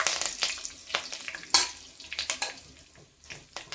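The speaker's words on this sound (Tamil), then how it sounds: "பெருஞ்சீரகம் பொரிஞ்சிருச்சு. இப்போ கொஞ்சமாக கருவேப்பிலை சேர்த்துக்கணும்." Fennel seeds and curry leaves crackle in hot oil for a goat liver chukka. The frying is fairly quiet, with scattered pops and spits over a soft, uneven sizzle and no voices.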